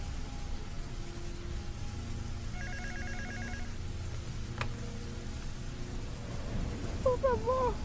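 A telephone rings in a horror audio drama, giving a short burst of electronic trills in the middle over a steady noisy background, with chirping tones near the end.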